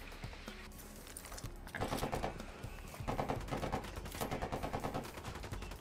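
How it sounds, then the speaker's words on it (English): Video-game gunfire in Ghost Recon Wildlands against rebels, a fairly quiet but continuous rattle of rapid automatic shots in several bursts over a low background rumble. "Opening fire."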